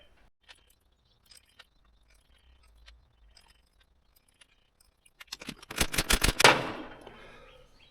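An impact wrench drives bolts in, a short loud burst of rapid hammering rattles near the end after quiet clinks of handling parts, no voices.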